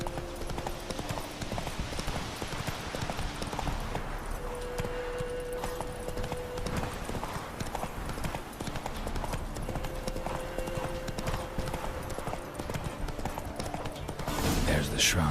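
Roach, Geralt's horse in The Witcher 3: Wild Hunt, trots with steady, rhythmic clip-clop hoofbeats that continue throughout over a constant game ambience.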